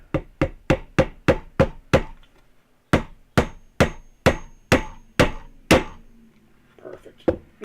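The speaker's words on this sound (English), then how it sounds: "let's cut this down so I can hammer it" A hammer drives a wooden plug into a hole in a Flying V guitar body: a steady series of sharp, loud wooden knocks, seven quick strikes, a short pause, then several more evenly spaced blows.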